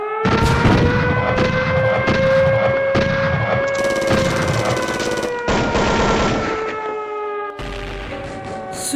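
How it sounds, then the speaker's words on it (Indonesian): Gunfire and bomb blast sound effects staged for an elementary school colossal drama about the battle of Surabaya, with a loud wailing siren sweeping steadily over repeated bursts of shots, continuous and close. "Suara dentuman peluru-peluru dan bom sekutu menghiasi kota Surabaya."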